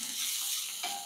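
Garlic paste, green chillies, cloves and cardamom sautéing in a pan: a brief, steady hissing sizzle that shifts slightly as the mixture is stirred.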